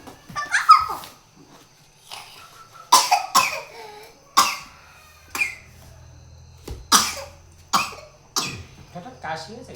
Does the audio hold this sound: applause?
no